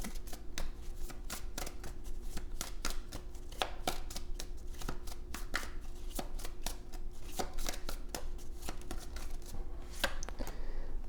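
Tarot cards are shuffled close and steadily, producing rapid crisp flicking riffles in an even rhythm over a low constant background hum, with no talking.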